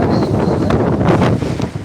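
Strong storm wind buffets the microphone outdoors in a constant loud, rumbling roar with gusty surges throughout.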